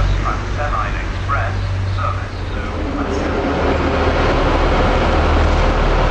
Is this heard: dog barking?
no